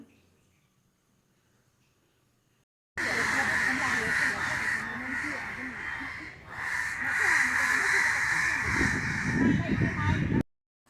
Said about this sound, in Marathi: त्याच्यामागे त्याला कावळे खूप त्रास देत आहेत